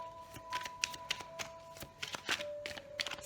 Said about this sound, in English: Let me just shuffle them.